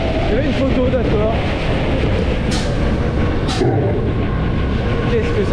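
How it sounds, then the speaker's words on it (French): An amusement park train at Europa Park rolls past with a continuous rumbling, clattering rail noise, loud and close, while people chatter in a busy crowd. "Oh, il y a le train."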